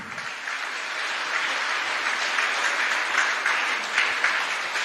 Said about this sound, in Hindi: इस सफलतम व्यक्ति के लिए जोरदार तालियां